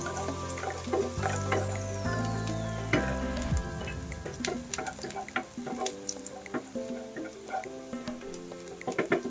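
Garlic sizzling and frying with pepper in a pan while being stirred, a steady crackle under background music.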